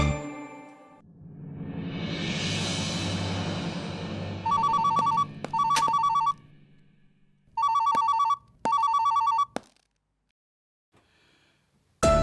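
A landline telephone rings in loud, evenly spaced double bursts of an electronic trill after a stretch of broad noise, then stops and leaves near silence.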